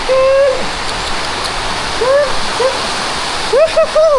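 A heavy typhoon downpour hisses and roars without pause while voices call out over it.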